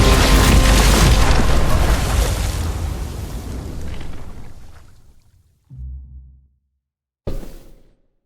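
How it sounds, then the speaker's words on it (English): A bomb blast in The Walking Dead video game: a loud, close boom with a long rumbling roar that fades over several seconds, followed by two short, heavy thuds. "Shit, the bomb!"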